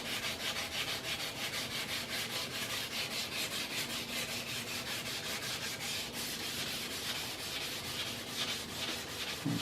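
Sandpaper is rubbed by hand over the surface of an aircraft plug, giving a continuous close, steady scratchy hiss with regular back-and-forth strokes.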